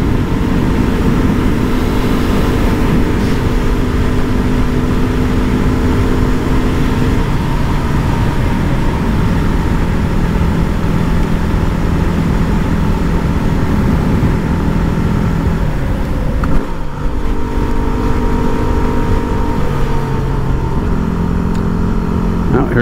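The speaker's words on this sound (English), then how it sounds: "Got a trike." A trike motorcycle engine drones steadily while riding, a constant rumbling roll with shifting pitch and wind noise throughout, close and loud for the whole stretch.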